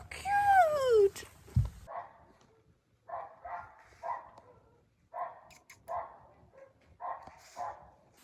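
A dog whimpers in a high, falling whine, then gives a short yelp, followed by a string of soft, moderately close barks or yips spaced through the rest of the stretch.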